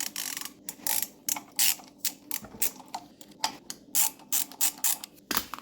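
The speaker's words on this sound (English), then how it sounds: "So I'm gonna go grab two 6mm and loosen that guy up, see if it spins free." A 6mm wrench ratchets on a pressure washer bolt in quick, close, rhythmic bursts of clicking, with short pauses between strokes.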